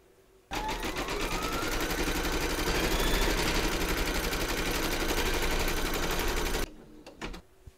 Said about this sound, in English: pop your hoop into your machine and stitch round number one